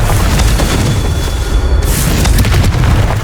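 The Confringo fire spell bursts in Hogwarts Legacy, giving a loud, dense, rumbling blast that fills the whole stretch, with a sharper crack partway through.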